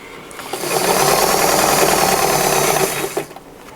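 A sewing machine stitches a flannel shirt in one continuous run of about three seconds. It gives a fast, even mechanical whir and clatter up close, starting up and winding down at the ends.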